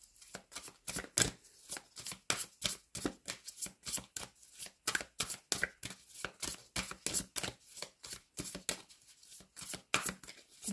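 Tarot cards are shuffled and drawn in a long, steady run of crisp riffling slaps and flicks, close and fairly loud, each burst sharp and regularly spaced, with no voice over them.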